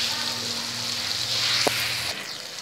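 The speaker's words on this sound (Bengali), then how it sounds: "এবার আমি এর মধ্যে টমেটো কুচি দিয়ে দিলাম আর চিড়ে রাখা লঙ্কা দিয়ে দিলাম" Chopped tomato and slit green chili dropped into a hot pan of spiced mixture for a Bengali tangra fish curry give a steady, close sizzle, with a brief sharper crackle partway through.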